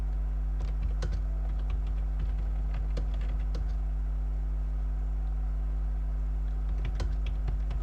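Keys on a computer keyboard are typed in light, scattered bursts over a constant low electrical hum, close but soft, with gaps between clusters of taps and no speech.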